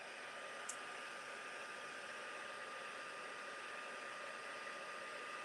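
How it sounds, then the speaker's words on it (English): Heat tool blowing steadily to heat set foil in craft work, a constant loud airy whoosh with no break, one faint high click near the start. "So I'm just going to heat set this."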